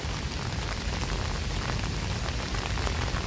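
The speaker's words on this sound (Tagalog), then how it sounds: "ang lakas ng ulan" Heavy rain pours down across an empty outdoor area, a dense, unbroken hiss of drops hitting surfaces, loud and steady throughout, with no voices.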